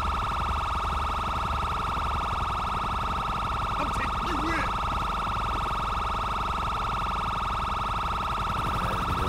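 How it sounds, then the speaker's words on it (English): A police car siren in a police video game wails steadily and loudly throughout, with a brief voice breaking in partway. "let me just shut the siren off real quick"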